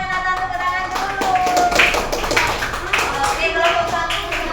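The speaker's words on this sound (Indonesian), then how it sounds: "tepuk tangan dulu" A group of classmates claps together for a student after a classroom group presentation, with steady, fairly close patter and voices mixed in throughout.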